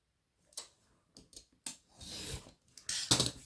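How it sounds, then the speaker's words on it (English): Scissors trimming a paper bag piece for a vintage photo craft, a handful of quiet, close snips and rustles spaced irregularly in a still room, ending with a quicker flurry of cuts. "Just cut off this little top bit here."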